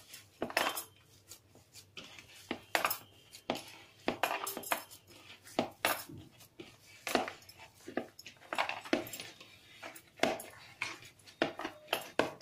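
Spoon clinking and scraping inside a bowl while cauliflower paratha filling is mixed with a little salt, a close run of irregular metallic taps and rattles with no talking.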